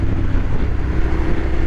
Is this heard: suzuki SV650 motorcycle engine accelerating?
yes